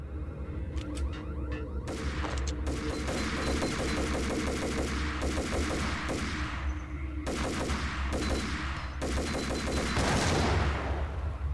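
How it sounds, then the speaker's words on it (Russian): Gunfire and explosions in the video game Max Payne, with rapid bursts of automatic fire, repeated single shots and heavy booms from a grenade launcher, loud and dense, with no voices over them. "Видимо, он сбился и выстрелил М79, да?"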